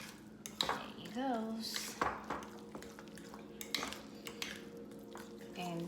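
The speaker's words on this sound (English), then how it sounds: "Just go around like this so everything mix it up." A spoon clinks and scrapes around a bowl while bean salad is mixed, with irregular taps and knocks against the sides and a brief spoken remark.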